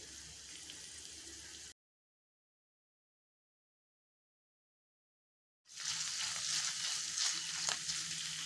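Garlic paste and fenugreek sizzle in hot oil for a bottle gourd and moong dal dish, a steady bright frying hiss before and after a silent gap of several seconds, with no voices.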